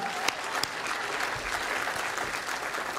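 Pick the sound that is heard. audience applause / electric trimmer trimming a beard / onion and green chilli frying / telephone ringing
audience applause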